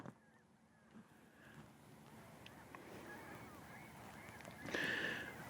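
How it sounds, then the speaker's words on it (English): Distant honking calls from a spring flock of birds, like geese, sound faintly over a low outdoor wash, recorded from a drone, growing a bit louder toward the end. "Flocks of birds are moving around."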